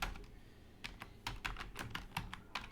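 Code being typed on a computer keyboard: distinct, fairly quiet key clicks in uneven bursts and single strokes, close by over a soft steady background hum, with no voices.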